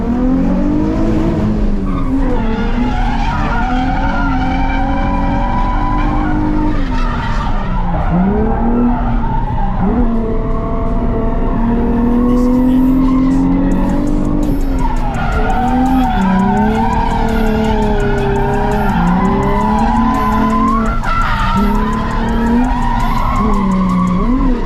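Drift cars sliding around a track, loud continuous tire squeal and engines revving up and down over nearly half a minute, with no talk.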